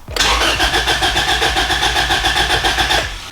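A Honda Civic 2.0 engine cranks with a rapid, rhythmic starter churn lasting about three seconds, loud and close, without clearly catching before it fades out.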